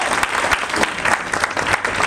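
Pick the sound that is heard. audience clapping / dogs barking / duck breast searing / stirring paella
audience clapping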